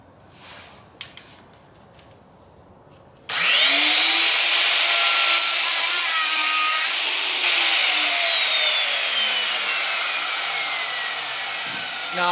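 A handheld router with a bearing-guided bit cuts a guitar body's wood along a template: after a few seconds of quiet, a loud, steady high-pitched whine with cutting noise starts abruptly and runs continuously, pitch dipping slightly as it works.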